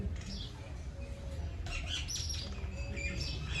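House sparrow chirping in short, bright bursts of several quick tweets, fairly close, set against a low, steady background hum with no talking.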